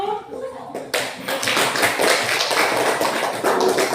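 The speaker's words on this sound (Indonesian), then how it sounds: "Oke, tepuk tangan untuk kelompok 1." Classroom of junior high school students clap for a presenting group, a burst of many hands starting after a brief voice, then continuing dense and close.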